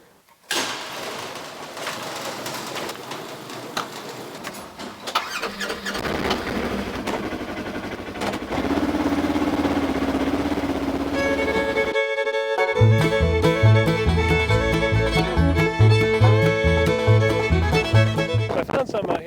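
A Ranger utility vehicle starts up and then drives out toward farm fields, its mid-pitched engine settling into a steady running drone, loud and close, with rattles and clunks along the way.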